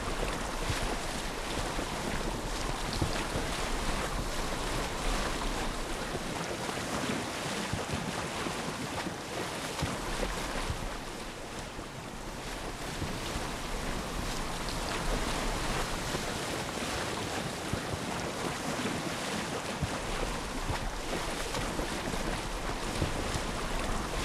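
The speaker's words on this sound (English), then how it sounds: "Can't handle the waves out there." Boat crossing open ocean waves in the Assassin's Creed Odyssey video game, with a steady, loud wash of surf and wind noise filling the whole stretch and a brief dip midway.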